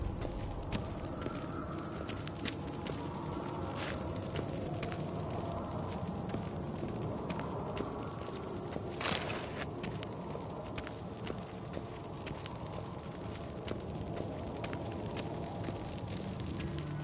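Horse hooves clip-clop steadily in The Witcher 3: Wild Hunt over a continuous rumbling background, a regular trotting rhythm that carries on throughout without talk.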